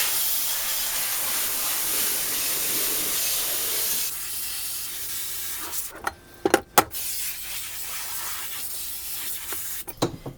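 Water spray rinsing a screen printing screen in a washout booth, a steady broad hiss for about four seconds that drops to a softer spray, broken by a few sharp knocks and splashes near the end.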